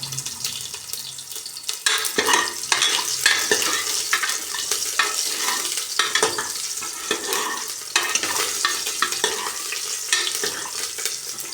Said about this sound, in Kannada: ಈರುಳ್ಳಿ ಫ್ರೈ ಸ್ವಲ್ಪ ಗೋಲ್ಡನ್ ಬ್ರೌನ್ ಬರಲಿ.